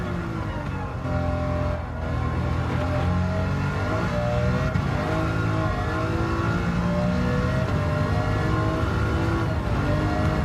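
A race car's engine revs hard on track in Gran Turismo, a continuous loud, high-pitched drone that rises and falls with gear changes and throttle, filling the whole stretch without pause.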